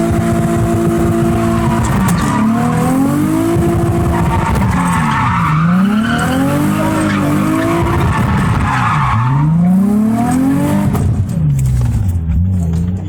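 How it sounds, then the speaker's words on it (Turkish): A Nissan 350Z Nismo tuned to 368 hp revs hard and loud to warm up. Its engine note repeatedly climbs and drops in sweeping waves, with tyre-squeal-like whine, and no talk over it. "Bir arabayı ısıtalım burada, ne dersin?"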